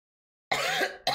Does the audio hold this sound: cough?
yes